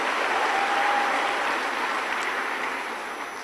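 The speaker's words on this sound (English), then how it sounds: "Give a round of applause for yourself." At the closing ceremony of a youth forum for young people from 54 countries, a large crowd applauds in a steady, dense roar that gradually fades toward the end.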